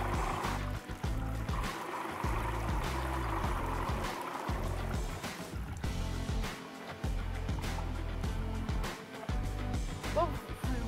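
A homemade radio-controlled truck churns through water, giving a steady splashing, trickling wash with a low motor hum underneath, while someone talks in French over it.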